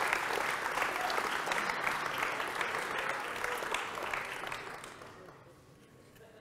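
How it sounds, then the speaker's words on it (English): An evening audience at a brewery in Richmond bursts into loud, full applause for their hosts, holding strong before fading away over the last couple of seconds as a voice begins to speak. "could I please get a huge round of applause for Mountain Goat for hosting us this evening?"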